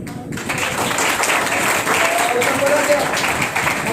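A church congregation at a revival service claps in a dense, steady wash of applause with murmuring voices underneath, loud and continuous throughout.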